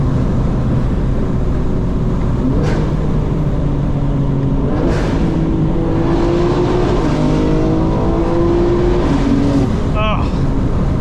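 A 2025 BMW M4 Competition xDrive on a night drive, its engine droning loud and steady from inside the cabin, with rising and falling revs as it accelerates and shifts gears, and speech mixed in.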